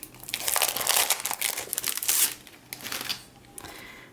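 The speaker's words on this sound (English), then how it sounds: "And then we have vintage paper." Vintage-style patterned paper sheets being handled, with dense, bright crinkling and rustling across most of the stretch, louder in the first half and easing into softer handling toward the end.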